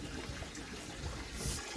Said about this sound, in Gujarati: આ પાણી ભરાઈ જાય પછી હવે આપણે પીવાનું પાણી ભરી લઈએ